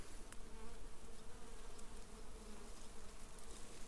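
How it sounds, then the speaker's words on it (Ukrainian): Dense swarm of honey bees buzzing around tall goldenrod, a continuous droning hum that stays steady and fairly close throughout, with no voices. "Хватає бджіл."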